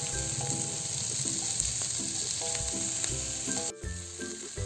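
Chili dropped into hot oil with shallots and garlic, sizzling loudly and steadily up close, while a tonal background melody plays underneath and briefly dips near the end.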